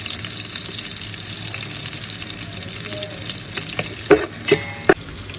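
Capsicum, bay leaf and cardamom fry in oil for Yemeni mandi, a steady close sizzle with a few sharp clinks and stirring knocks toward the end.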